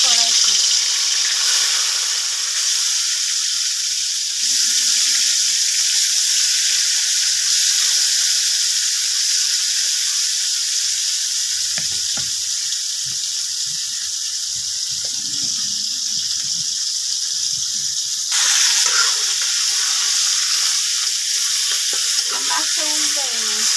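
Snakehead fish frying in hot oil in a wok, a steady loud sizzle that surges when the fish goes in, with occasional stirring clinks and brief speech partway through.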